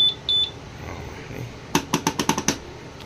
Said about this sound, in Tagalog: May alarm pa.